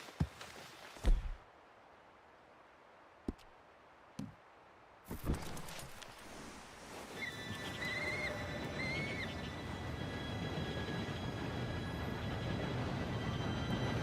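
A train approaches in Red Dead Redemption II, after a few sharp knocks and a long stretch of quiet the rumble builds steadily and grows louder, with a faint high whistle-like squeal over the rolling noise.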